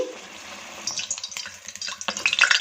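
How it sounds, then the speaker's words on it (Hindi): Korean fried bread dough sizzling in hot oil over medium-low heat, a close crackling fry with bursts of bubbling and light stirring or shifting, no talk. "इसे फ्राई कर लेंगे"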